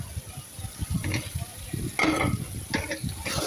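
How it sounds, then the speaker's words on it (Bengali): Spices and boiled potato are stirred in a frying pan for an egg, potato and meat dish, with repeated scraping and clattering strokes over a constant sizzle, close and moderately loud. "তো আমি খুব ভালোভাবে লাড়াচাড়া করে নেব"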